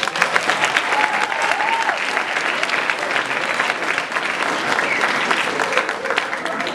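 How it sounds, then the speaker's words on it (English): An audience applauds the grandparents at an evening school function during a head boy speech, a steady dense roar of clapping from a large crowd that continues unbroken throughout. "Let's give them a round of applause."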